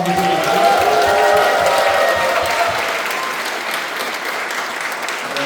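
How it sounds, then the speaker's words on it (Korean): A large audience at a Korean political party lecture event claps loudly and steadily, a dense, sustained burst of applause that eases slightly toward the end. "보람이 있다고 생각하시면 크게 박수하고"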